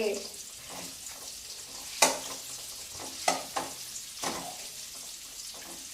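Paneer pieces frying in a pan make a steady, moderately quiet sizzle, broken by a few sharper crackles and spatters, with soft stirring sounds and no talking.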